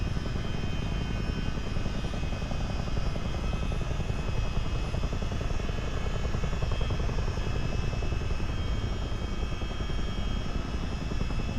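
A Chinook twin-rotor helicopter makes a flyby in Microsoft Flight Simulator 2024. The thick, rapid rotor thumping and engine whine hold steady and loud from start to finish, with no voices over it.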